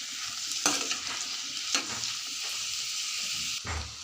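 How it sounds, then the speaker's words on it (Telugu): Cut eggplant frying with softened onions in a pan for eggplant and prawn curry, a steady sizzle with a few sharp scrapes of stirring, close and alone with no voices. "ఇప్పుడు కట్ చేసుకున్న వంకాయలు వేస్తున్నాను."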